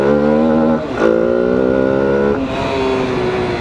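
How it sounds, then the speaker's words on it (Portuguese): A 250cc motorcycle missing its air intake hose between throttle body and filter box revs hard, a loud raw engine note that dips briefly, climbs again and holds at high revs. "A moto ela tá berrando assim porque ela tá sem coletor."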